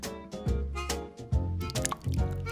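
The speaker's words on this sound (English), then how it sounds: "And pour fresh milk." Fresh milk pours and glugs into a glass over ice and marmalade cubes, with bubbly, uneven bursts and drips, close up, with no talking.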